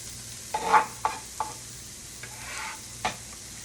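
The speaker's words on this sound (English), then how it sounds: "so my onions are frying." Onions sizzle softly in a pan while a utensil stirs them, making a few scraping clinks at uneven intervals.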